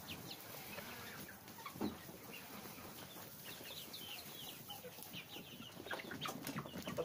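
Arab chickens, roosters and hens together, cluck steadily at close range, with a busy overlapping flock chatter and occasional louder calls.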